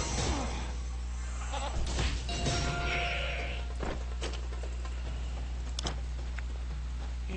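Goat-like bleats in the video game Aion sound over a steady electronic hum, with a few sharp thuds and clicks scattered throughout.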